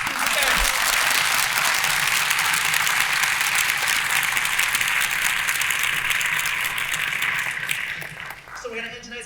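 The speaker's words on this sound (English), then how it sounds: "Let's give a round of applause for students and parents." At a high school band concert, the audience applauds students and parents in a loud sustained wave that gradually thins and fades as voices emerge at the end.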